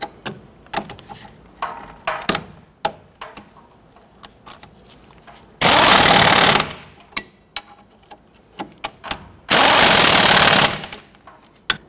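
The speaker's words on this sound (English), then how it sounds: "Tighten down our knuckle bolts here." An impact wrench tightening knuckle bolts on a 1992-1996 Toyota Camry during a front CV axle replacement, two loud sustained rattling bursts separated by scattered clicks and clanks of tools, with no talking.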